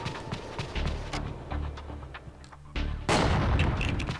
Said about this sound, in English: Oh, now I can shoot this box.